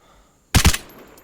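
Two or three quick gunshots ring out close and loud in the video game Vigor, breaking a near-silent moment and fading into a short echoing tail.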